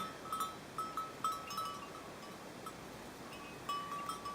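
Cowbells on grazing cows clank irregularly in short bursts over a quiet outdoor background on a rural walking path, a few clusters of bright metallic dings at moderate distance.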